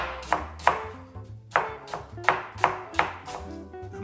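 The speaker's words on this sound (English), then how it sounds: "now that we have all of our onions sliced" A knife slices onions on a cutting board for French onion soup, giving about nine sharp, evenly spaced chops in a steady rhythm, close and clear with no talking.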